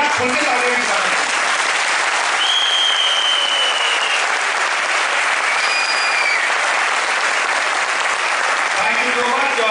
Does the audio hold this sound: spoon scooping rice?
no